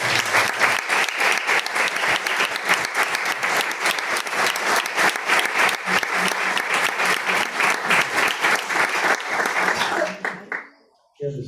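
Audience at a Catholic book presentation applauding a bishop, a loud sustained wash of many hands clapping that holds steady for about ten seconds, then cuts off abruptly.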